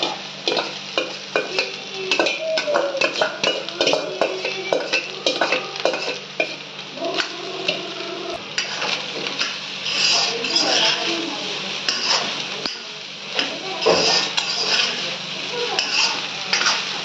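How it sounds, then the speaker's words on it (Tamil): Rice is mixed with sautéed potatoes in a pan for a kids' lunch box, with repeated spoon scrapes and clatter over a light sizzle, heard close up while someone talks throughout. "நல்லா மிக்ஸ் பண்ணி விடுங்க"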